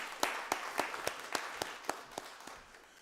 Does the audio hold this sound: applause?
yes